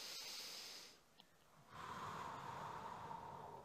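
A person doing a breathing exercise during a body energizing routine, with a soft breath, a short pause, then a long, steady, airy exhale, close and quiet with no talking.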